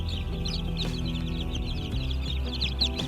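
Chickens cluck in a steady chorus on a Japanese industrial egg farm, many birds at once over a constant low mechanical hum, with no voices.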